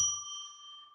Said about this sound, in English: I am going to ring a bell 3 times to declare sacred space.